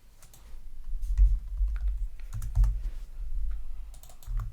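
Quick bursts of clicking and key taps while selecting the Mega Horn move in a Pokémon game, soft irregular clusters over low thumping, close and fairly quiet, no voices.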